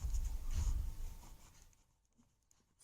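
Chalk or marker writing on a board during an English grammar lesson, a soft close scratching and rubbing that fades into quiet after about two seconds, with no talking.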